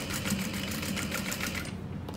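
A sewing machine stitches around the outside edge of a fabric wristlet wallet with a continuous rapid rattling hum, then cuts off sharply near the end.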